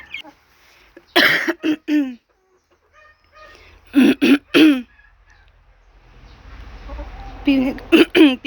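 Hens clucking in short harmonic bursts, close by, with a low rumble of background noise and a brief throat-clearing sound.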